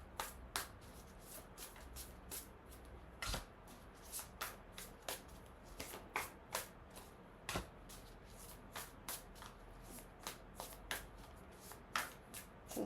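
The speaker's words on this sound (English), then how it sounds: "So let's see what the tarot holds for our Capricorn friends." Tarot cards shuffled by hand in a quiet room, a run of soft riffling flicks and sharp snaps at an irregular rhythm, close and alone with no talking.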